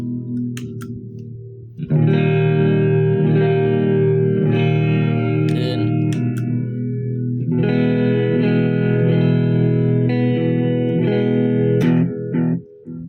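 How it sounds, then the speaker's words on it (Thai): A guitar plays sustained chords through a pitch shifter pedal, the pitch dropped half a tone, with a thick, chorused tone ringing out continuously. "ดรอปลงมาครึ่งเสียงครับ"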